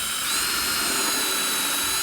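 A power drill runs steadily while pre-drilling a screw hole in a wooden board for a butt joint, a loud, close, continuous high whine with no pauses and no talking.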